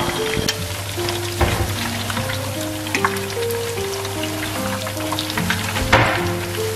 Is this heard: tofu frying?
yes